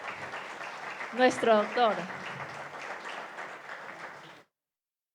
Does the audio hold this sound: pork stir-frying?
no